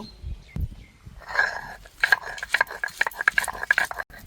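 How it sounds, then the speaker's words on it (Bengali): Green chillies being ground by hand, likely on a grinding stone, with scraping and knocking strokes in an irregular, close-up rhythm and a few sharper clacks, heard alone with no talk. "বন্ধুরা, লঙ্কাগুলো বেটে নেব।"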